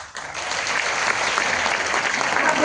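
An audience applauding at a talk, dense steady clapping from many hands, loud and sustained throughout with no pause.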